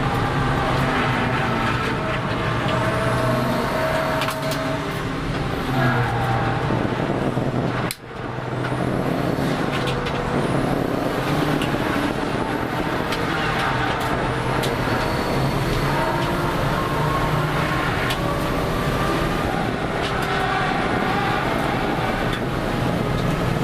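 Race cars, including a 1970 Mazda Miata, lap a track during a MARRS club race, a continuous loud engine roar with cars sweeping past, briefly dipping once before the noise resumes.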